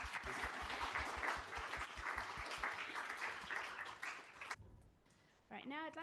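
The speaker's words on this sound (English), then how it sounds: "Big round of applause." An audience at a Scala user group meetup talk applauds in a steady patter of clapping for about four seconds. The clapping then fades, and a voice begins speaking.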